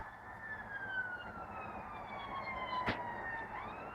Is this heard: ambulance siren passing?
yes